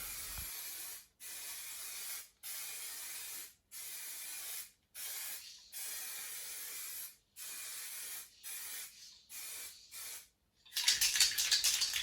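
A car bumper near the diesel filler is spray painted in about ten evenly spaced hissing bursts from the spray gun, each lasting roughly a second, close and steady, then a brighter, rougher spray at the end.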